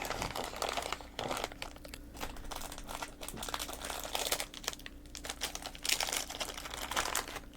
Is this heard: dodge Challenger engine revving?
no